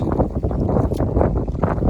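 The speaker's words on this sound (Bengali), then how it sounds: "আজকে অনেক বাতাস তাই না আজকে অনেক বাতাস" Strong gusting wind buffets the microphone in a loud, rough rumble on a Bangladeshi village riverside during fishing, with no voices.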